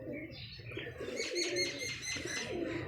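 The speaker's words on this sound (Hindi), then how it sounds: "ये देखे माशाल्लाह कैसा कबूतर है ये।" Pigeons near at hand give soft, repeated cooing and chirping calls in a steady stream, with a brief flutter of wings during the morning capture of a fancy pigeon.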